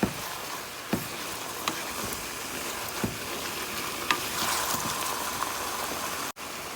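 Shepherd's pie filling with Worcestershire sauce sizzles in a hot pan as it is stirred, with a steady crackling hiss punctuated by several sharp spoon knocks against the pan, close and with no speech.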